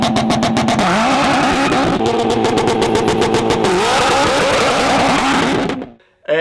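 Modified Subaru engine revving hard while driving, loud and close, with gear changes and rising pulls before it cuts off abruptly near the end.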